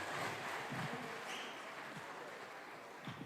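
Distant audience applause at a G20 summit speech, a faint, even patter of clapping that carries on for a few seconds and gradually fades.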